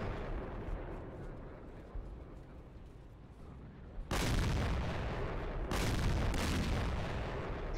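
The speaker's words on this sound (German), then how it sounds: "So, ich schieße da mal mit Artillerie drauf auf die Panzer." Artillery in Company of Heroes fires on tanks. Rumbling battle noise comes first, then heavy, loud booming blasts break in and roll on with sustained, thundering explosions and a short gap between them.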